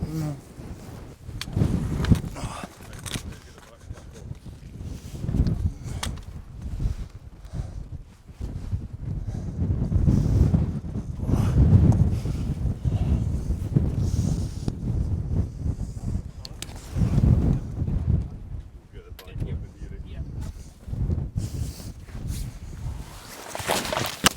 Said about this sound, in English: Windy, it's breezy, that's for sure.